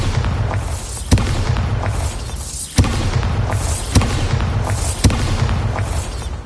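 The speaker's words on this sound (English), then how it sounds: "Bombarda." In the video game Hogwarts Legacy, the Bombarda explosion spell sets off a series of loud booming blasts, about five of them, spaced roughly a second or more apart over a dense, rumbling game soundscape.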